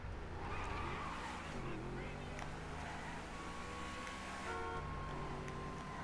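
A white car drives in GTA V, its engine humming steadily with tire and road noise while someone talks over it throughout.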